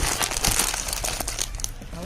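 A plastic bag holding a kilogram of pasta crinkles and crackles continuously as it is handled up close, a dense busy rustle with no talking.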